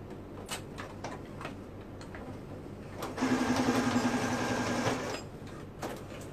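A sewing machine stitches a tag into mesh shorts in one steady, close run of about two seconds, with fabric handling and light clicks before and after.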